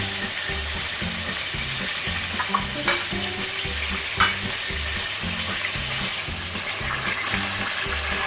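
Chicken sizzles and crackles steadily in hot oil, a continuous loud frying hiss with occasional pops and light stirring.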